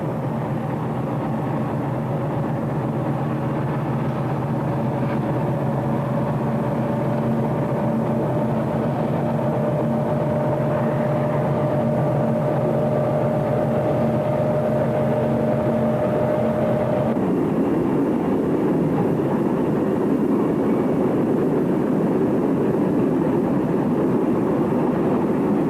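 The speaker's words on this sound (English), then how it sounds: "Reassembled, the train heads on north, crossing the Green River towards Asheville." Norfolk & Western and Southern diesel locomotives haul a northbound train across the Green River toward Asheville, a loud steady engine drone with a sustained horn-like tone that cuts off partway, then a rougher rumble of rolling cars and wheels.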